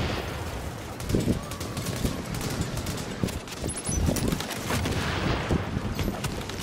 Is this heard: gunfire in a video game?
yes